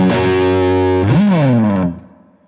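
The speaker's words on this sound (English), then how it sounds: "that's me switched over to my dirty sound with the Friedman" A distorted electric guitar through a Friedman amp model on an IK Multimedia ToneX One pedal, with one thick, loud chord sustaining and bending in pitch partway through before fading, heard alone.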